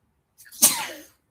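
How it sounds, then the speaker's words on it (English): A single sharp sneeze, a short breathy intake followed by a loud burst, close and alone. "I had to sneeze."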